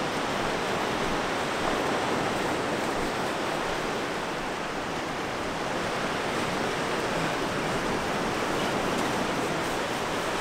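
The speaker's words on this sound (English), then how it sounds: "Get in the surf." Ocean surf breaks on a beach, a loud, steady wash of broadband rushing noise that swells slightly but never stops, close by and with no voices.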